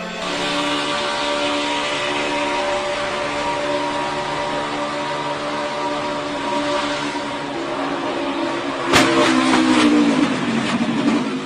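Stock cars race past in a NASCAR event, the Sitco Ford and STP Pontiac running together, a steady loud engine roar with a sharp burst near the end as a car passes close.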